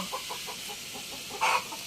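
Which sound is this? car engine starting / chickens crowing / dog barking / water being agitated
chickens crowing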